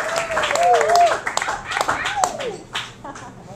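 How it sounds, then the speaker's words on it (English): A small audience claps briefly at a literary reading, scattered hand claps mixed with voices and murmuring. "You can applaud if you want."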